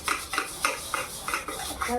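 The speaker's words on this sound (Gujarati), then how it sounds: "હું વાહન ઘસતી હતી" Metal pots and utensils are scrubbed by hand in quick rhythmic strokes, about six rasping scrapes with light metallic clatter, close and alone.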